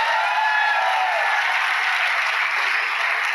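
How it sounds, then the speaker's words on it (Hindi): An audience gives hearty applause for a company founder at a business gathering, a loud, continuous wall of clapping with scattered whoops, no talking over it. "डॉक्टर संजीव कुमार सर के लिए एक बार जोरदार तालियां"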